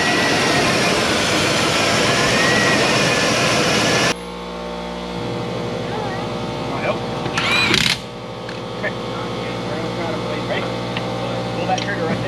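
A 1990 Chevy Cheyenne 2500 pickup that sat for 13 years idles with its engine running, a steady close mechanical drone, shifting character partway through, with brief louder bursts and talk nearby.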